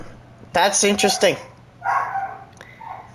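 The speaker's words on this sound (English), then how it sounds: "My dog's freaking out." A dog barks indoors in a few short, close bursts, mixed with someone briefly speaking.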